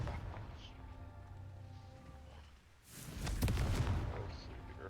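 A Confringo fire spell blasts in the video game Hogwarts Legacy, one loud burst after a quieter lull, with a brief crackling tail over background game sound.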